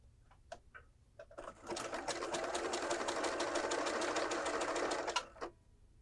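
A home sewing machine runs one steady burst of about four seconds across knit fabric for a circle skirt, close and clear, with quiet handling sounds before and after.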